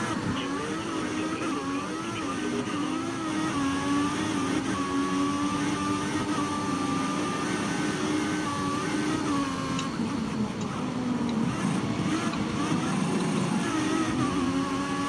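Formula 1 car engine from the F1 2014 racing game with a Mercedes power unit, droning steadily and loudly at high revs throughout, a continuous close-up whine that shifts pitch slightly as the car chases another car.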